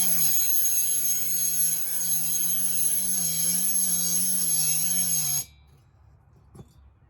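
A rotary burr bit grinds out the ports of a 288xp chainsaw cylinder, a loud, steady whine whose pitch wavers slightly under load, then cuts off abruptly, leaving near silence with one faint knock.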